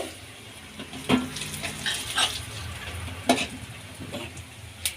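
Urad dal and sesame seeds frying in a pan, giving a soft continuous sizzle broken by several sharp scraping stirs of a spoon against the pan, close up and with no talking.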